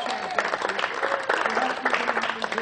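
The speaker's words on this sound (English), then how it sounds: "Please, one more round of applause for all of the performers." An audience applauds the performers at the close of a concert, a dense, steady burst of clapping with some voice mixed in underneath.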